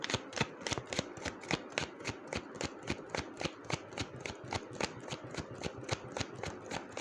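Tarot cards shuffled by hand, a steady close run of crisp riffling slaps repeating rhythmically throughout, with no talk.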